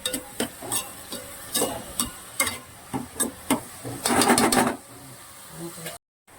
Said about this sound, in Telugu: ఉల్లిపాయ, కరివేపాకు అయితే వేసేస్తున్నాను. అవి అయితే బాగా వేగనిద్దాం.